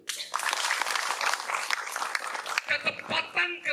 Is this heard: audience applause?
yes